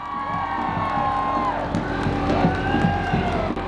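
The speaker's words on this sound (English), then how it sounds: "A round of applause for Onirica." A parade crowd in Mexico City cheers and whoops for Onirica, a loud, continuous outdoor roar with shrill whistling tones rising and falling above it.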